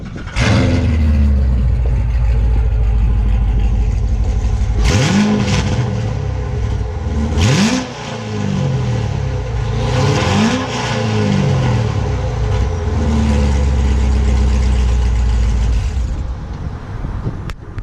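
A C7 Corvette engine revs hard at a rev battle, loud and close, with several sharp rising revs climbing and falling in the middle before settling back to a steady rumbling idle, with no talking.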